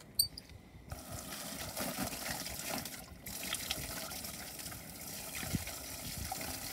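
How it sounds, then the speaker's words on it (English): Water runs from a tap into a bucket in a steady, continuous gush, with a brief interruption partway through and small splashes, fairly quiet with no talk. "water goes in the bucket,"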